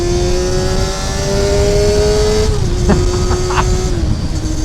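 A Honda CBR250RR MC22 four-cylinder 250 motorcycle screams at high revs, holding a steady high-pitched wail, then dipping briefly between gears and climbing again, loud and close, with wind rush.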